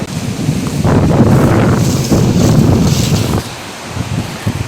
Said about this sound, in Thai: ไม่คิดว่าลมจะแรงขนาดนี้นะ